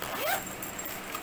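The zipper on a chest bag is pulled open in a single quick, close rasp over a quiet room.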